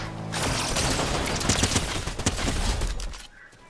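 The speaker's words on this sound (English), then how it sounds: "Someone else is shooting me." Dense, sustained automatic gunfire in the video game Fortnite, a rapid stream of overlapping shots that fills the scene for about three seconds before cutting off abruptly.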